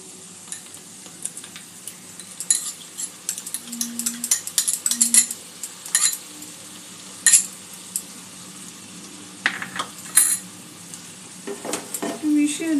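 Kantola (spiny gourd) stirred with poppy seed paste in a pan, a soft wet scraping and sizzle with intermittent utensil clinks and scrapes, close and moderately loud, no voices.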